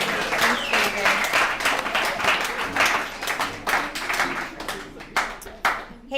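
Applause from the audience at an alumni meeting of a recovery services group, a dense run of clapping that keeps going through the clip with a few sharper individual claps standing out, and some voices underneath.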